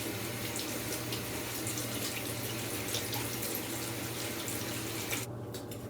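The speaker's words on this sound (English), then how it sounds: "now we're going to rinse our beet off" Tap water runs steadily into a sink as a beet is rinsed, a continuous close splashing hiss that cuts off near the end.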